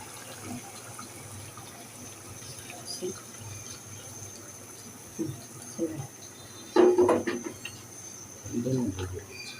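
Hot boiled water is poured into a cooking pot of kabsa, heard as short splashy gushes, strongest around the middle and near the end, over a quiet room background with faint voices.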